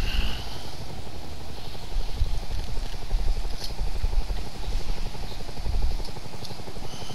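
A helicopter in Metal Gear Solid V: Ground Zeroes thumps with steady rapid rotor chop and a low engine drone, loud and continuous as it hovers close by.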